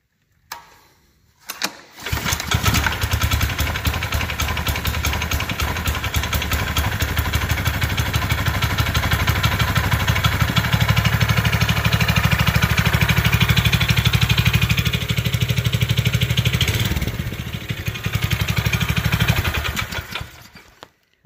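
A Honda race go-kart engine set up for off-road use starts with a brief crank and catches, then runs loud and steady at a fast buzzing idle close by for about twenty seconds, with no talk.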